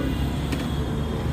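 A Hero Honda motorcycle engine idles steadily just after starting, a continuous low rumble with a brief higher burst partway through.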